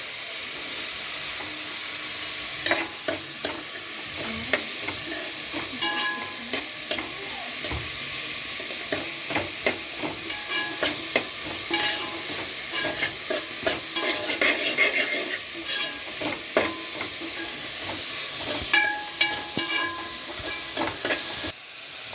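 Curry leaves being stirred into vegetable fried rice in a frying pan, with a steady sizzle and hiss under repeated scraping and clinking of the spoon against the pan, and no talking.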